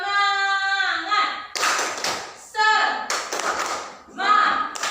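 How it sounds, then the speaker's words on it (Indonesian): A group chants the rhythmic 'tepuk semangat' clapping cheer, alternating sung call phrases with sharp bursts of hand claps in a close, lively indoor session. "Kita mulai dengan tepuk semangat dulu."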